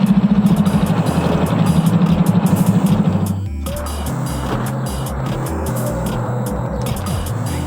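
A Honda CT90 motorcycle engine runs close by with an uneven throttle, a throbbing, pulsing note at first that drops into a lower, steady running sound.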